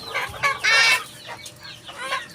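Native chickens, including four-month-old pullets, cluck and squawk nearby at feeding time in short, loud bursts.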